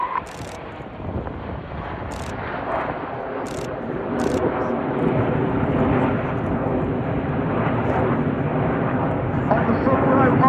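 Red Arrows jets flying a chevron roll at the Cosford airshow, a distant engine roar that swells steadily louder beneath a commentator's amplified voice.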